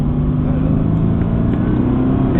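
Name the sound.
Mercedes AMG GTS car driving on a track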